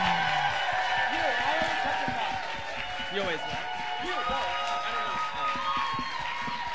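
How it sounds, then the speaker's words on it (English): A bar crowd at a Drag Race viewing party claps and cheers for a drag performer, a busy mix of applause and whoops under a loud speaking voice and other chatter. "I would love for you to clap and make her feel absolutely wonderful and gorgeous"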